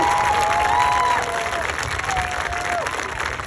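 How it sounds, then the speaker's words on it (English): After a middle school spring band concert, the audience bursts into applause. Sharp whistles and cheers ring out over the clapping, which starts loud and then settles into a steadier, slightly softer patter. "one more round of applause for the second night"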